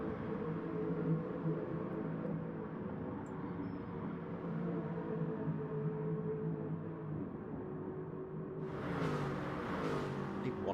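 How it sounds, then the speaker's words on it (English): Race cars accelerate around a track in a racing sim, a sustained loud engine drone with shifting revs throughout and a brief burst of sharper noise near the end, with no talking. "People want to hear the cars though"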